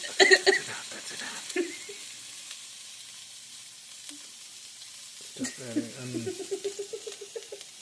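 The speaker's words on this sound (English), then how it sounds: "Now we're gonna add our onions." Onions frying in a pan for shakshuka give a quiet, steady sizzle beneath short bursts of talk and clatter, with a louder stirring or scraping patch near the end.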